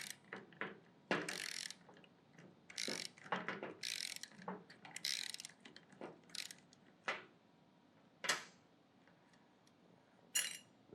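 A ratchet with a 14 mm socket works the caster wheel nut on a Tennant S5 scrubber. Short bursts of clicking come in uneven spurts, close and fairly quiet, with pauses and a few separate clinks between them.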